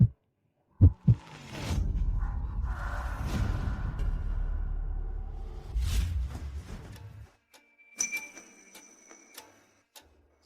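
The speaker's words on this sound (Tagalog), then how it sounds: "Ang bilis ng tibok ng puso ko." A fast heartbeat sound effect plays as a pair of sharp low thumps, then a swelling rumbling whoosh with more pulses, ending in faint ticking and chiming tones.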